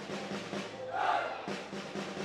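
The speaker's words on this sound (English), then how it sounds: "The crowd come to life. The drums start drumming." Stadium crowd at a Pakistan v Malaysia field hockey match in the Sultan of Johor Cup, a roaring swell of voices with rhythmic drumming underneath, loud and continuous.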